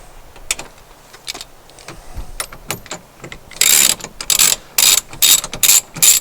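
Hand ratchet clicking as it turns a bolt on the dash of a 2006 Jeep Wrangler TJ, a few quiet clicks at first, then loud, close bursts of rapid ratcheting in quick repeated strokes.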